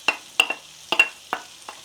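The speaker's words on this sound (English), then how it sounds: "in with the rest of our chili and garlic. And we're just going to give it a little stir around in there for a minute" Fish with chili and garlic being stir-fried in a pan: a handful of sharp, separate scrape-and-sizzle strokes as the spatula moves, close and fairly quiet, with no talking.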